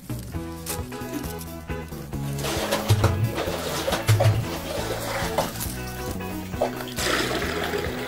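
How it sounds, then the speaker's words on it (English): Water drawn from a well in George Town, Bahamas, with a pan kettle tied to a homemade rope, giving sloshing and splashing with gurgling water over several seconds, mixed with birds cooing nearby. "So I'm going to draw some water to give the goat."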